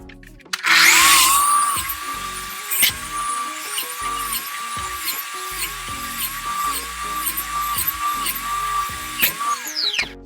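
Festool Kapex miter saw cutting repeatedly: a loud, steady high motor whine runs for about ten seconds, broken by a rapid string of short cutting pulses, close up with no talking.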